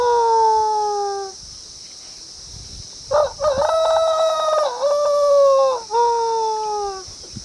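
A man imitates a rooster's crow, with two long, loud cock-a-doodle-doo calls and a short broken squawk between them, performed up close with no other talk.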